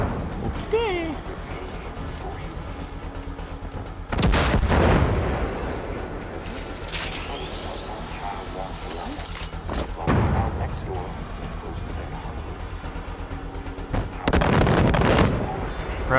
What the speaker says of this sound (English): You want a cubby hole and take cover from the mortars